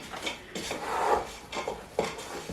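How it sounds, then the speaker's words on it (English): A spoon scraping and stirring gluten-free Christmas pudding mixture in a bowl, a string of close, uneven scrapes and knocks against the bowl. "so now mixing both of them through the mixture"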